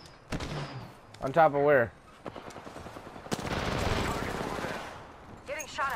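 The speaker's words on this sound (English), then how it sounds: "Getting shot at." Video game gunfire, with bursts of rapid automatic shots that build into a long sustained volley in the second half, mixed with short bits of speech and game voice lines.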